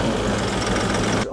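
ARBOS farm tractor engine running at a steady idle, a loud, close, rumbling diesel drone with knocking pulses throughout, then cutting off abruptly near the end.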